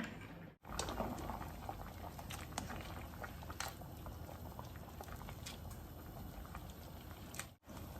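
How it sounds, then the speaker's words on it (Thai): Spaghetti boils in a pot of water, a steady close bubbling and churning that runs evenly throughout with no talk. "ไปดูเส้นที่ต้มไว้ก่อนนะคะ สุกพอดีหรือยังนะคะ"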